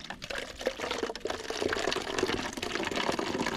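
Body-temperature water is poured into a container to mix a Taktic treatment for bees, with a close, bubbling, splashing stream running throughout.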